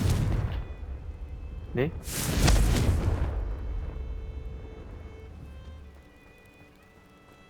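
A Confringo blasting spell goes off in Hogwarts Legacy, bursting with a loud, broad explosion and crackling debris that fades into a lingering rumble, with a brief spoken word just before.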